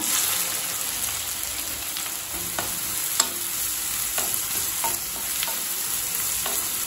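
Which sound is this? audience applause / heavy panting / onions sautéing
onions sautéing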